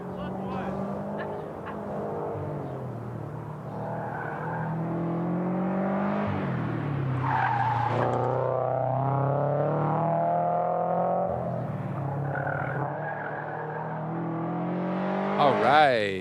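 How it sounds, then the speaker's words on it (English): A 2020 Subaru BRZ runs a timed lap at a track event in Lake Elsinore, California. Its engine note rises and falls steadily at moderate distance, mostly under continuous announcer talk. "And up next, we have Eric in his 2020 BRZ"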